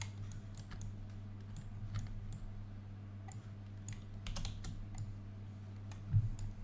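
Computer keyboard keys are pressed while working in 3ds Max: scattered soft clicks, single taps and a few quick bursts, close and faint over a low electrical hum, with no talking.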